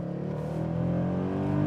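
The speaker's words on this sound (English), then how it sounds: "So I'm going to put it into sport mode and just to see how the acceleration combined with the 7-speed MCT gearbox is on a good handling road" A Mercedes-Benz C63 AMG with a 7-speed MCT gearbox pulls away in sport mode on a winding road, its engine a steady rising drone heard from inside, growing louder over under two seconds.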